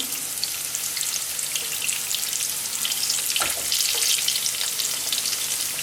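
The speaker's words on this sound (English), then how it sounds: "fry them in some oil on both sides" Steady crackling sizzle of apple pie potstickers frying in hot oil, continuous and close, with a brief clink of a utensil partway through.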